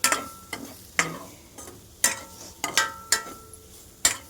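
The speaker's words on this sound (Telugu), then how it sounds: "ఇలా రోస్ట్ సూపర్గా అవుతుంది" Ingredients are roasted in a pan while a spoon stirs them, giving a series of sharp scraping clicks at irregular intervals over a faint, quiet sizzle. No one talks during it.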